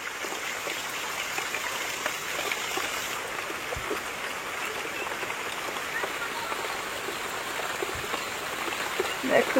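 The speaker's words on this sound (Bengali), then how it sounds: "দেখো কি জোরে বৃষ্টি এলো" Heavy rain pours down steadily, a dense, constant hiss close by with a couple of soft thuds, continuing unbroken throughout.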